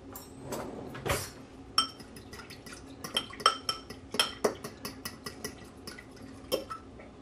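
Utensil clinking and scraping against a bowl while char siu marinade is mixed, a steady run of sharp, close taps and clinks with soft stirring in between, no talking.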